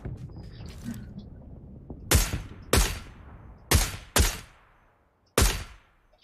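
Gunfire in PlayerUnknown's Battlegrounds Lite: five sharp, loud single shots at uneven intervals, each with a brief decaying tail, after a few seconds of quieter in-game background noise.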